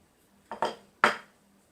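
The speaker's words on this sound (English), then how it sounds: "using a cake knife to pull the frosting out" A cake knife scrapes frosting out of its container for a heart decoration on an anniversary cake, giving three short scraping clinks close up, two in quick succession and then one more, in a quiet room.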